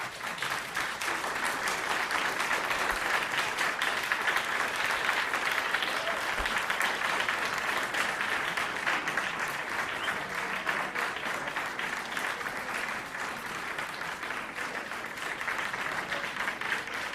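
Sustained audience applause at a Jeffco Schools board meeting's public comment session, a steady dense wash of clapping filling the room with little variation for the whole stretch.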